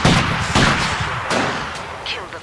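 Partisan soldiers fire rifles in Company of Heroes 2, a run of sharp gunshots and booming reports over a couple of seconds. The battle noise is dense and overlapping, with faint voices mixed in.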